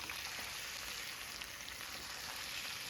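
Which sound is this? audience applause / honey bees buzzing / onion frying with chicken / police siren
onion frying with chicken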